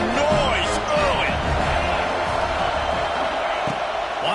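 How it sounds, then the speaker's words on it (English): Loud stadium crowd at an FSU vs USC college football game, a steady roar of cheering and whoops filling the space, with a commentator's voice running over it. "This crowd bringing the energy and noise early."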